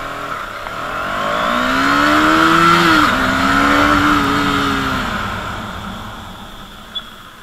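A KTM Duke 250 BS6 motorcycle accelerates hard in first gear, its engine note climbing loud and close for several seconds before easing off and fading, with no talking.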